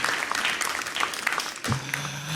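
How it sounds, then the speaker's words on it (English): An audience at a Ghanaian awards ceremony for changemakers claps loudly and steadily. Near the end a low sustained hum joins in as the applause carries on. "Applause are in order, ladies and gentlemen."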